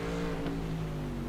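GT3 race car accelerating at Oulton Park in a video game, in third gear out of the first corner: a short, steady, fairly faint engine drone with a rising harmonic tone, no voices.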